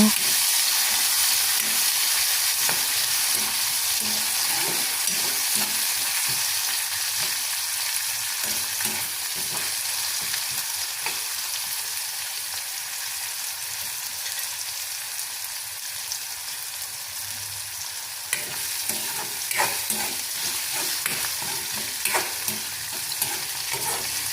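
Onion, garlic and curry leaves fry in a pan for fish curry, a steady broadband sizzle running throughout with repeated scraping stir strokes close by, louder at the start and briefly flaring near the end.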